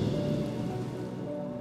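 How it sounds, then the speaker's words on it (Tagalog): Heavy rain pours without pause in Panabo, Davao, making a dense, even roar of drops striking surfaces, loud and constant throughout. "wala pa ring tigil ang buhos ng ulan"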